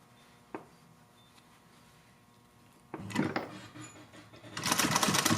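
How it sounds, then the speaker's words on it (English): Sewing machine stitching down pleats on a fabric face mask, a couple of soft clicks and handling noises before the motor starts whirring steadily near the end, close and quiet. "I'm going to sew them down"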